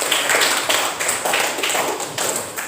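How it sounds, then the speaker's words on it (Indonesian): A classroom of students claps together during an Indonesian lesson, producing a brief run of about seven even, sharp claps in a steady rhythm, close and fairly loud. "Ya, tepuk tangan."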